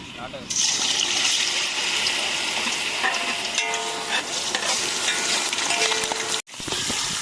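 Food sizzles loudly in very hot oil during a village-style cooking session, a dense, steady frying hiss that fills the whole clip with a brief dropout near the end; people talk faintly in the background.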